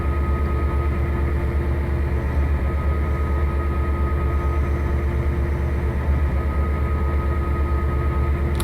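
Train rumbling steadily in Trainz Railroad Simulator 2019, a Canadian Pacific consist on the Niagara River route, with a continuous low engine drone and rolling noise, constant in level throughout and no voices.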